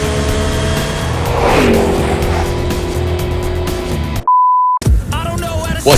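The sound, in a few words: MG ZS EV car accelerating 0 to 100 in sports mode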